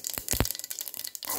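Mustard seeds pop and crackle in hot oil, a quick cluster of sharp snapping cracks over a soft sizzle, close by and brief.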